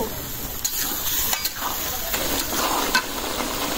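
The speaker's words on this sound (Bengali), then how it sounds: "এই মশলার সাথে কষানো হয়ে যাব, আলুতে মশলাটা ভালো করে মিশবো" New potatoes stir-fry in a pan with spices and green chilli, a steady close sizzle punctuated by several sharp scrapes and knocks of the spatula, with no talking.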